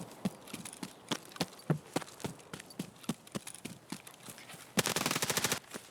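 Gunfire from an M4 rifle in a PMC firefight video game: single shots at irregular intervals, then a dense, rapid automatic burst near the end, loud and up close with no talking.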